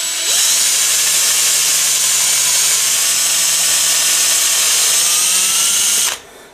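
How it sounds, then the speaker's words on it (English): A power drill runs loudly and steadily, with a bit working into metal to cut a centre dimple, before it stops abruptly near the end. "that was drilling backwards"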